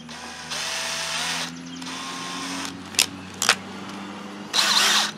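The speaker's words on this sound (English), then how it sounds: "I've got it on low speed here, and I'm just going to go ahead and drill all these holes." A power drill on low speed runs a small 3/32-inch bit through a plastic kayak hull, its steady whine lasting about a second, then again, followed by brief sharp bursts and a final louder run.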